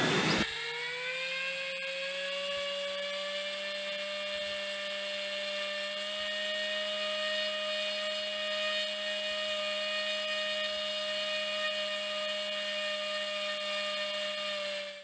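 A radio-controlled airplane flying in Kitsap County gives a high, buzzing motor whine that starts abruptly, then holds a steady pitch and loudness for the rest of the clip, close and alone with no talk.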